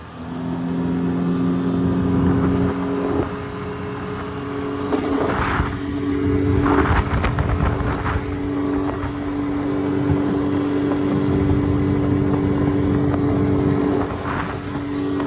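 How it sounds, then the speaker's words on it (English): Heavily modified Carolina Skiff J16 motorboat running at about three-quarter throttle, a loud steady outboard drone with strong low harmonics, rising and surging slightly with wind and water noise throughout, no talking. "I'd say probably like 3/4 throttle right now"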